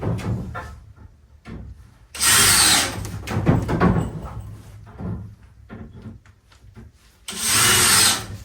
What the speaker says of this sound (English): Let me put 2 screws in this one, have it ready to go.